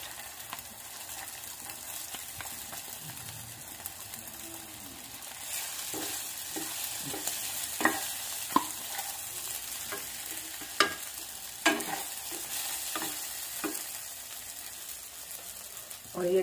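Sabudana (tapioca pearls) sizzles steadily in a pan while a spoon stirs and scrapes it, giving sharp clicks at irregular intervals over a low frying hiss.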